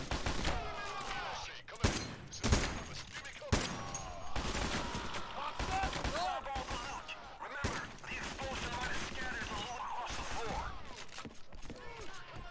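Dozer firing an LMG in a video game, heard as a loud, sustained burst of rapid machine-gun fire with dense overlapping shots across the clip. Voices talk over it.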